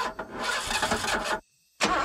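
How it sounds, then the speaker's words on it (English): A car engine cranks and catches in a Wolf Man movie trailer, a loud, rough, continuous roar that cuts to sudden silence before another loud burst returns. "Can she start the car?"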